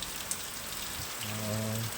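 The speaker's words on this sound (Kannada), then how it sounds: "ನಮ್ಮೂರಲ್ಲಿ ಮಳೆ ಸಿಕ್ಕಾಪಟ್ಟೆ ಜೋರಾಗಿ ಬರ್ತೈತೆ" Heavy rain pours down steadily in a village in strong wind and rain, a dense, even hiss throughout, with a low hum rising under it toward the end.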